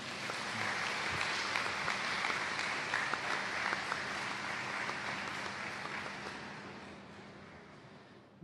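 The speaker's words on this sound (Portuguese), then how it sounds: "pedir uma salva de palmas" Audience applause at a 2017 Christian retreat in Lamego fills the room, dense and steady with no break for the whole stretch.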